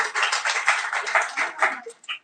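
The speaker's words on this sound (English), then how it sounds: "Let's give him a clap too." A small group claps for a person during a live stream, a brief burst of rapid hand claps that thins out to a few final claps.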